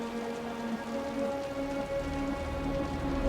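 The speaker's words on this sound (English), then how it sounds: "The rain's getting heavier." Heavy rain in the video game Wuthering Waves, a steady dense patter that fills the whole stretch without a break, close and fairly loud, with a faint tonal hum held low beneath it.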